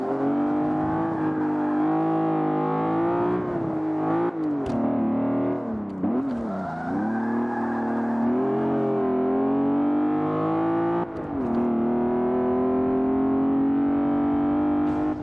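A race car engine howls loud and close through a video game lap, its pitch rising and falling as it shifts gears, with brief dips and swells as it works through corners.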